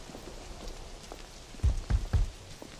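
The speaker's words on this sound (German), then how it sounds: "Es regnet." Rain falls in the game The Order 1886 as a steady hiss, with a few low thuds cutting through near the end.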